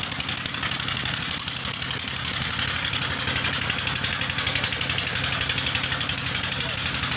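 A motorcycle engine running at idle beside a sand ghat, a steady rapid chugging throb held evenly throughout, close and moderately loud with outdoor background noise.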